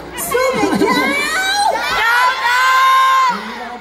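A concert crowd at a Fête de la musique performance shouts and cheers, a loud, close burst of high screams and whoops lasting a few seconds.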